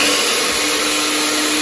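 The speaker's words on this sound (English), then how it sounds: "Let us puree for 5 seconds." Blender pureeing strawberries with syrup for popsicles, a steady loud whirring motor drone running continuously at close range.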